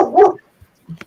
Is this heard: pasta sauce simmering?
no